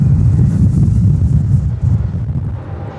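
Strong, near-direct headwind gusts at Melbourne Airport buffet the microphone as a loud, steady low roar that eases slightly toward the end, with no voices.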